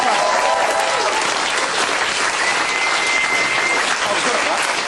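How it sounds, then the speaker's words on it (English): A studio audience at a 2006 television interview gives loud, continuous, densely packed applause that keeps a steady level throughout. "Round of applause for Peter and Walter."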